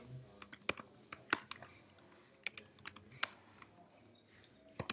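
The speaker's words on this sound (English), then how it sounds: "You can type h2 and then type some word" Quick, uneven bursts of key clicks from a computer keyboard, close and fairly quiet, with short pauses between words.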